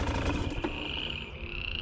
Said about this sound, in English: All the frogs talking.